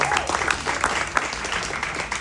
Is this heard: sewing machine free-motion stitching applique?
no